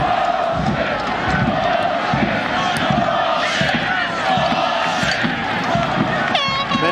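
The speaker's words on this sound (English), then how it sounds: "Many in the crowd voicing their sentiment about the quality of the officiating so far." Stadium crowd at a 2001 World Cup qualifier football match between the United States and Jamaica, a loud sustained roar of voices and jeers with horn blasts near the end.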